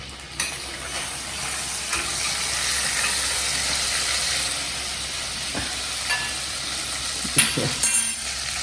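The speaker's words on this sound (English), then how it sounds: "I'll put a little jeera, very little. And I shall stir." Cumin seeds sizzle steadily in a hot pan throughout, with occasional clinks of a spoon stirring against the metal, close and fairly loud, no talking.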